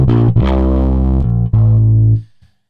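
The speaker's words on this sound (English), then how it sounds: "Let's add a bit of distortion." Electric bass from the MODO Bass virtual instrument played through a drive distortion pedal, loud sustained gritty notes changing pitch, then ringing out and cutting off.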